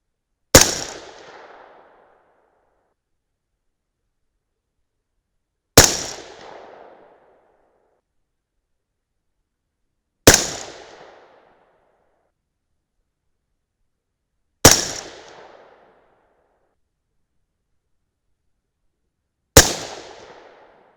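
A .223 Remington rifle loaded with 75-grain Speer Gold Dot bullets fires five loud, sharp single shots at a steady pace about four to five seconds apart, each one trailing off into a short echo.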